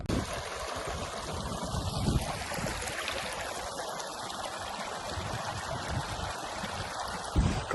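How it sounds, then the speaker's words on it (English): The River Plym flowing on Dartmoor, a steady broadband rush and trickle of moving water that holds at an even level throughout, close by, with no voices. "Just behind me is the River Plym"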